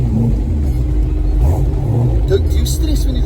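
A Backdraft Cobra roadster's engine rumbles deep and loud from inside the car, swelling briefly as it revs, while people talk over the steady drone.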